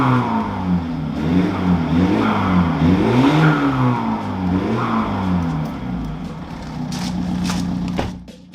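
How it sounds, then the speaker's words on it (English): A car engine idles and revs after washing to dry water from the exhaust, its pitch rising and falling in several close revs before settling into a steadier hum. "now I'm just going to start the car and dry all that water out of the exhaust"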